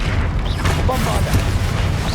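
Bombarda explosion spell from the video game Hogwarts Legacy, a loud booming blast with heavy low rumble and crackling debris, sustained and close, with an effortful voice mixed in.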